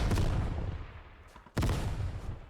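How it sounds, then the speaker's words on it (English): Two booming video game explosions in a row at a shooting range in Ground Branch, the first decaying with a rumble before a second heavy explosion hits, loud and close. "I could honestly do without the, like, multitude of explosions going on."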